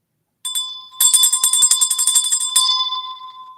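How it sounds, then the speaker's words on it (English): A bell sound effect rings in quick repeated strikes, bright and sustained for about three seconds before fading, loud and alone with no voices. "ring that bell."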